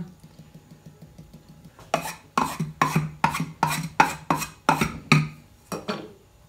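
Flour, 400 g of T55, poured from a pouring jug through the opening in a kitchen robot's lid, heard as about eight rhythmic, gritty bursts of shaking and scraping, close and fairly loud, with no talking.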